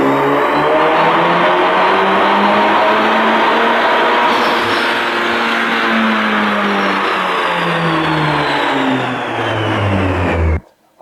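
A Stage 2 tuned car on 93 octane pulls hard through a dyno run, engine note climbing steadily for about ten seconds with rising harmonic whine, loud and close, then cutting off abruptly at the end.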